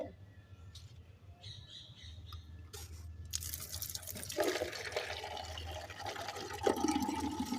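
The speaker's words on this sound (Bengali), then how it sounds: "গাছগুলোতে একটু জল দিয়ে রাখলে বেশ ভালো থাকবে" Water pours and splashes steadily onto garden plants at home, the gushing rising and holding loud for several seconds after a quieter start, with bird squawks heard faintly in the background.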